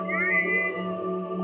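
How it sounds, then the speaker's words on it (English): A deep, drawn-out cat meow in a video game, a single low, tonal call that sounds close and clear. "the cat sounds deeper now"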